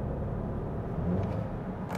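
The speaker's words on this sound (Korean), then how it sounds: "이게 그럼 터빈 돌아가는 소리가 들려요." Turbocharged Volvo XC60 B5 mild-hybrid SUV, turbine spinning down just after the throttle is released, a steady low whir and rumble from the cabin with a faint rise near the end.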